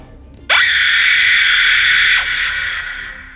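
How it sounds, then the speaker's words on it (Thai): A ghost screams in pain in an audiobook sound effect: one loud, shrill, sustained wail that starts suddenly, holds steady for about two seconds, then slowly fades, with no speech over it. "ผีร้ายกรีดร้องลั่นด้วยความเจ็บปวด"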